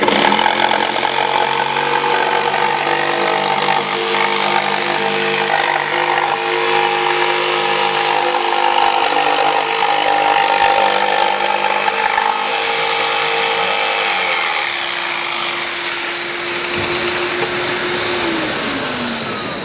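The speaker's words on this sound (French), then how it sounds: "Cette lame va nous permettre de tourner sur un rayon très serré sans avoir le problème du talonnement que l'on a habituellement avec une scie sauteuse." A Mafell jigsaw cuts a tight circular radius, giving a loud, continuous motor whine with a rough sawing buzz that holds steady for most of the cut, then shifts and winds down near the end, with no talking.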